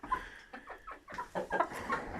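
Chickens cluck and murmur nearby in a coop in a continuous, busy stream, with a Light Brahma rooster's low calls mixed among the hens.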